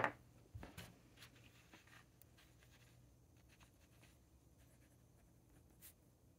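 Fountain pen nib scratching across paper while writing a short French sentence, faint and close, with soft intermittent strokes and a few louder taps and rustles.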